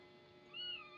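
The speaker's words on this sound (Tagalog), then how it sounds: "Kulit ang pusa namin" A pet cat gives a single short meow, rising and then falling, faint and close against a quiet room.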